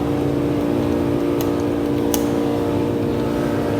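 A dual fuel 3 kW portable generator running on propane, giving a steady, even engine hum with a constant tonal drone and no change in pace, close by and alone.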